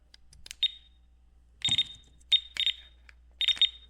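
A non-contact voltage tester near an electrical wire while replacing old pot lights gives short, high electronic chirps in quick irregular bursts, faint handling noise between them.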